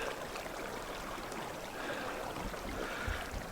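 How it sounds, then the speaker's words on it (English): A babbling creek flows beside a trail with thin ice along its edges, a steady, soft rushing and trickling wash, faint and continuous, with a low thump near the end. "Babbling Creek."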